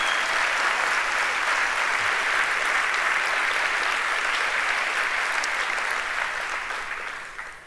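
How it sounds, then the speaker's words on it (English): Sustained audience applause filling a hall after an introduction at a talk with bestselling author Mark Victor Hansen, steady dense clapping with no voices, tapering slightly at the end. "Give him a round of applause if you would"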